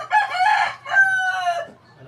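A rooster crows once nearby, a loud two-part cock-a-doodle-doo call with a rising, drawn-out final note.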